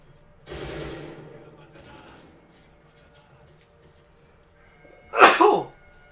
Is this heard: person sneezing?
yes